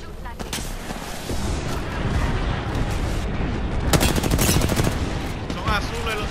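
Rapid gunfire and booming blasts from a shooter video game roll on continuously, loud and dense, with a heavier burst near the middle and a voice talking over the action.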